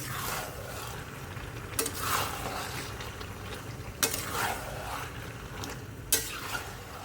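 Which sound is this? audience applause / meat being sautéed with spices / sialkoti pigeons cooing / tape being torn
meat being sautéed with spices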